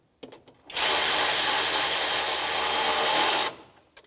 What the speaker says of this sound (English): Let me grab my electric ratchet and start it up.